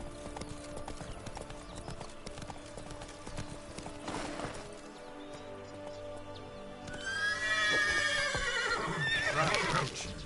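Roach, a horse in The Witcher 3 DLC, trots with a steady clip-clop of hooves under game ambience, then lets out a loud, drawn-out neigh near the end.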